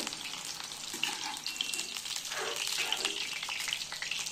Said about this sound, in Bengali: এইগুলো একটু একটু করে ফ্রাই করে নেব।